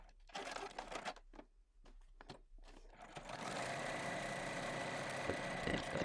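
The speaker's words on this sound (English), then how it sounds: "using a 1/4 inch seam allowance, we're going to stitch across both long edges" A sewing machine stitches along the long edges of fabric for a luggage trolley sleeve, starting with short stop-start bursts and then settling into a steady, close, continuous whir.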